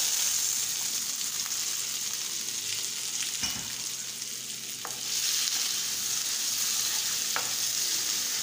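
Paneer sizzling and frying in a pan with ginger and garlic, with a steady hiss of hot oil throughout and a few brief clinks of stirring, no voices.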